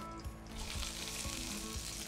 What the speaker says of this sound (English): You hear that sizzle? That's what you want to hear.